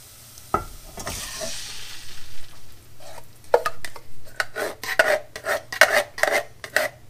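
Crushed tomatoes from two large cans go into a pan for cabbage rolls and get stirred, giving a soft pour followed by repeated wet scraping and clinking strokes of a spoon against the pan, close and rhythmic, with no talking.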